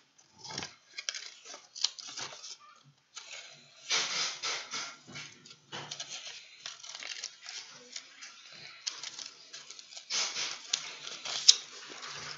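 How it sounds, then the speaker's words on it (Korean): Scissors snipping paper during a kids' craft of making a paper container, a series of irregular crisp cuts and rustles with brief pauses, fairly close, alongside occasional soft talking. "그러면 가위로 살짝 잘라주세요."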